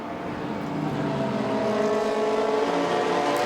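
Race cars at Silverstone's Masters GT Trophy, a continuous loud engine drone with droning harmonics as cars pass and accelerate, heard from trackside with no voices.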